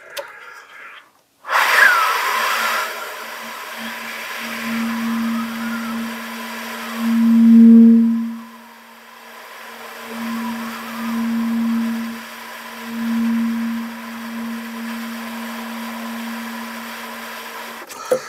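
Saxophone played in subtone, a thin, breathy sustained note held for over ten seconds with slight swells and brief breaks, after an airy breath attack at the start.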